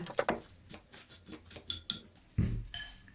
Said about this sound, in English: Then I close the bowl.